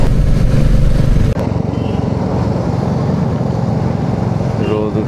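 A Royal Enfield Classic 350 rides along a bypass road near Patiya, giving a loud, steady engine drone and wind roar with a thump partway through. Someone speaks over the ride.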